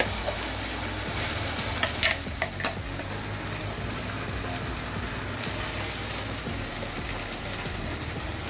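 Spiced masala sizzling steadily as it fries with fried onions in a kadai on the stove, a continuous close crackling hiss with a few brief scraping stirs near the start.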